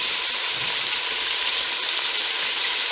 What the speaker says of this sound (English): Basically, just cook the onion.